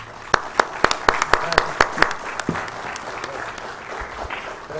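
Audience at a Christian worldview conference in Mexico claps to welcome a speaker, opening with a run of loud, distinct individual claps that blend into steadier, softer applause and fade toward the end.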